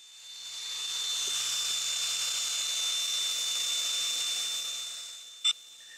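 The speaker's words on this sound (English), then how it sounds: "I'm also going to take my grinder and catch the inside corners that I couldn't get in tight with the belt sander" A handheld grinder smoothing the inside corners of a wooden stair tread runs as a steady, loud high-pitched whine, rising in, holding for several seconds, then fading out, followed by a single brief tick, with no talk.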